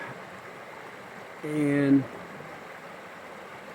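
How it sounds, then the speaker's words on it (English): A river flows steadily past its rocky bank, a soft continuous rushing wash throughout, with a brief voice and a short tonal sound rising over it midway. "sitting on the banks of one of my favorite spots here on the river"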